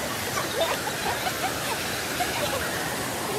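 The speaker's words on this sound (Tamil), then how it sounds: "பயங்கரமாக தண்ணி வருது மேலே இருந்து." Water pours heavily from above as a waterfall, a loud, dense and unbroken roar with no pauses across the whole stretch.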